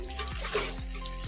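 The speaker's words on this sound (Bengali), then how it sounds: "এবার গরম জলটা দেবো, তাহলে স্বাদ হবে ভালো" Hot water pours briefly and quietly into a pan of potato and cauliflower curry, a soft, short splashing hiss.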